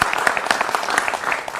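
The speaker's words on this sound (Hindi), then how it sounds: "जोरदार तालियां हमारे मेहमानों के लिए, जोरदार तालियां हमारे साधु संत समाज के लिए" Studio audience applauding guests and holy men at a televised debate, a short burst of dense, fairly loud clapping with a voice faintly mixed in.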